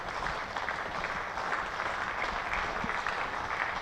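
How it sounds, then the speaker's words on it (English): A county championship cricket crowd in Hampshire applauds as the home side's batters bring up 100 in a run chase, steady sustained clapping from a spread-out crowd, fairly loud and continuous with no talk. "You hear the crowd appreciating the hard work that these Hampshire batters are putting in to going about chasing down this total."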